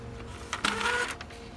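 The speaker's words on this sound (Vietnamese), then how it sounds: "nó kéo giấy lên là nó kẹt, nó bị kẹt lại đó" A Brother HL-2140 laser printer trying to pull paper and jamming: a faint motor hum, then a brief whirring, grinding burst of feed rollers lasting about half a second before dropping back to quiet hum.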